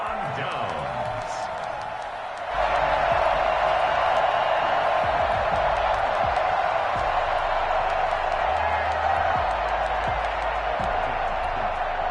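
Large stadium crowd at an Eagles football game roaring in a sustained, loud wash that swells after a brief quieter opening, with a commentator talking over it.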